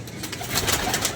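A pigeon coos in short, soft, repeated murmurs, fairly close, over a steady background hum.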